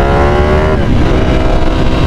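Super sports motorcycle without mirrors ridden near a homestay in Sakleshpura, its engine a loud, close, sustained drone with a slight shift in pitch partway through, no talk.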